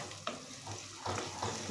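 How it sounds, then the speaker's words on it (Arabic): Small diced onion cubes fry in hot oil in a pot, a soft sizzle broken by a few short stirring clatters, fairly quiet and close. "وهننزل في الزيت بالشكل ده كده لحد ما البصلة تغمق خالص"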